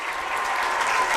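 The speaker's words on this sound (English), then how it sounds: "Round of applause." Crowd applause in the stands of a high school football stadium during a game, a brief, steady wash of clapping heard from a distance.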